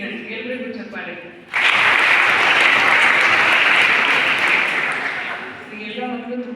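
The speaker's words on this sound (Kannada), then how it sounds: "ಎಲ್ಲರಿಗೂ ಚಪ್ಪಾಳೆ." Children at a school mathematics day event clap together in a loud, sustained burst of applause lasting several seconds, with a teacher's voice speaking before and after it.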